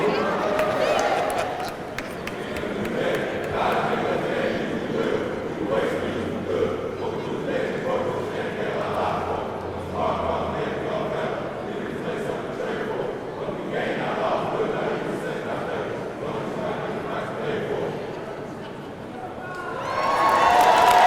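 A crowd at a school alumni assembly cheers and shouts loudly and continuously, a dense roar of many voices that swells again toward the end.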